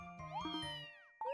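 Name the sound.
cat meowing in the video game Fantasy Life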